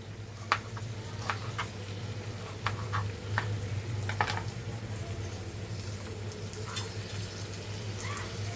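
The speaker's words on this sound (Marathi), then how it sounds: "कांदा आपला शिजत ठेवलेला आहे आणि ह्याच्यामध्ये आपल्याला टोमॅटो पण घ्यायचा आहे." Onion and tomato frying in oil in a pan, a steady soft sizzle with scattered clicks and scrapes of stirring, heard close and alone over a low background hum.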